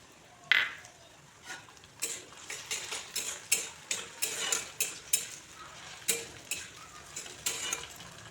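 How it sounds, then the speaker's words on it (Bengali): Tomatoes and green chillies frying in a pan give a soft sizzle under a run of rhythmic scraping and tapping strokes as a spoon stirs them, fairly quiet and close. "তারপর এতে টমেটোগুলো দিয়ে দিচ্ছি, কাঁচা লঙ্কা চারাগুলোও দিয়ে দিচ্ছি।"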